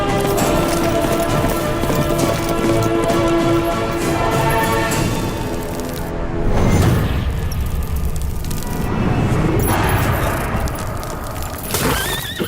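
Horse hooves clip-clop steadily in a dramatic action film scene, fairly loud and close, mixed with swelling music and booming effects, with no speech.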